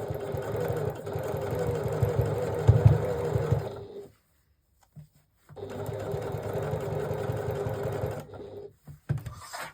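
A sewing machine stitches PUL (polyurethane laminate) fabric in two steady, close, rapid whirring runs, separated by a few seconds of silence and ending with a few short bursts.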